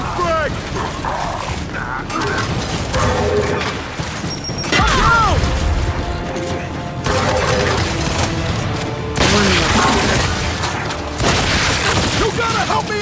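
Frag grenade blowing up amid gunfire in Gears 5: loud booms and crashing impacts recur over a busy battle bed, with shouting voices scattered through.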